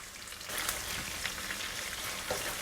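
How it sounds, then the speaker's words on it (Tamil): Chana dal and cashews fry in hot oil with dried red chilies, a close, even sizzle that swells when they go in and then holds as a steady crackle, with no talking. "நடக்கல்ல முந்திரியெல்லாம் கொஞ்சம் நல்லா வறுபடுற வரைக்கும் நல்லா இந்த எண்ணெயிலே வதக்கிக்கலாம்"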